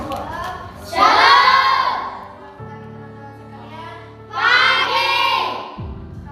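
A school class cheers for a presenting group in two loud bursts of children's shouting and whooping, with a quieter stretch of hum and murmur between them.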